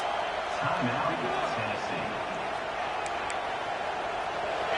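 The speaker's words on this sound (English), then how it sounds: "Listen to this crowd just shaking the girders of this place, trying to help their defense." A stadium crowd at a Tennessee versus Arkansas football game roars in a dense, constant wash of noise, with a commentator talking over it throughout.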